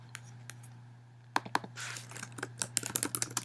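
Typing on a computer keyboard, with sparse single key taps at first, then a quick irregular burst of clicks, close and fairly quiet over a low background hum.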